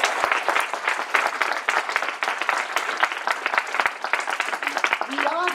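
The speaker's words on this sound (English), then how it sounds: "So big round of applause." An audience at a 15th anniversary celebration breaks into loud, sustained applause, dense clapping filling the room without a break.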